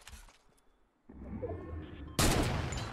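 Gunfire in the Fortnite battle royale game: a faint shot sounds first, then a short lull, then a steady rush of action and a loud burst of shots that closes the clip.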